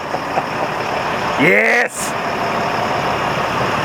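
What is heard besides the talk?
LMTV military truck engine running in gear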